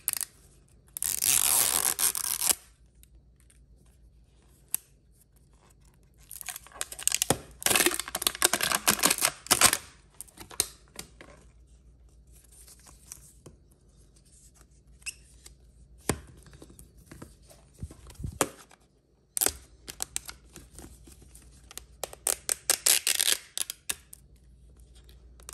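A LOL Surprise toy package is unwrapped and opened close up, with crisp crinkling plastic and paper tearing in irregular bursts separated by quiet pauses, and no talking.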